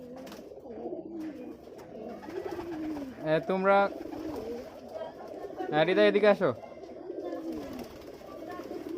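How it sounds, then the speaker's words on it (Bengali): Original Giribaz pigeons from Rajshahi, some of Pakistani breed, cooing in low throaty rolls while eating grain, against a steady background murmur with a few sharper calls, as a person speaks nearby. "আপনারা ইতিমধ্যে দেখতে পাচ্ছেন কবুতরগুলো দানা খাচ্ছে।"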